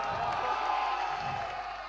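Audience applause and cheering for a performer and his team at a ghazal concert, a dense, steady wash of clapping and crowd noise that holds throughout without a break.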